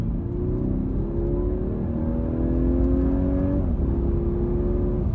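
A 2021 Audi A5 Coupe engine revs and accelerates steadily, its pitch rising in long sweeps before briefly dropping and climbing again, loud and close throughout.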